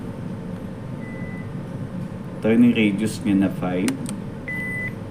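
A JRC 9201 ECDIS marine navigation system sounds a thin steady electronic alarm tone near the start and again near the end, with a person talking over the middle.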